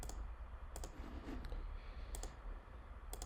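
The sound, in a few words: computer mouse left clicking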